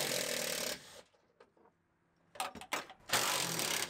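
Seat belt bolt being removed from a 2015 Mustang GT interior, heard as loud ratcheting tool bursts at the start and end with a few faint clicks and metal handling in between, no talk.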